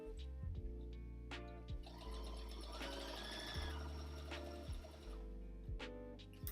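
Sewing machine stitching a thicker Neverfull-style tote bag, a steady continuous mechanical whir running through most of the stretch with a few sharp clicks and knocks, fairly close and moderately loud.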